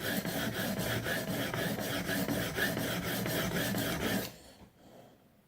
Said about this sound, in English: I'm pinching the neck of the blade, and I'm pushing into the stone with my two fingers.